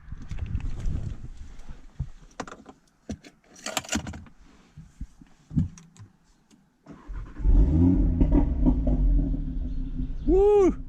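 612 hp MTM-tuned Audi TT RS five-cylinder engine starting up: faint keys and interior clicks, then a loud crank and catch into a rumbling idle, ending with a sharp rising rev.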